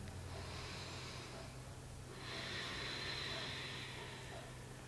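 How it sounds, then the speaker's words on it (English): A person takes a slow, deep breath in, then lets out a longer, louder exhale during a shoulder range-of-motion exercise, the airy rush close and steady with no talking. "Breathe in, and exhale."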